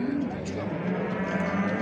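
A calf moos steadily at a busy livestock market in Çorum, its low, sustained bellow up close over a crowd murmur with faint voices talking in the background.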